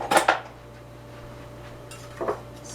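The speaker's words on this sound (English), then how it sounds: "I'm going to get a little spatula" Metal utensils clink against a pan or dish while a small spatula is picked up for warm peanut butter bars, two short clattering bursts, one at the start and one near the end, with a quiet gap between.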